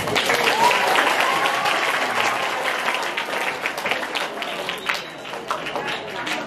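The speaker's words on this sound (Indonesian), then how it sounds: "Tepuk tangan dulu." Students clap together at a school Isra Mi'raj commemoration, a loud dense burst of many hands that gradually thins and tapers, with some voices mixed in.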